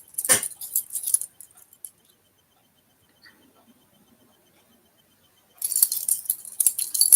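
A bunch of keys jangles close up in two bursts, a bright metallic clinking shake at the start and again at the end, with a near-silent pause between and no talking.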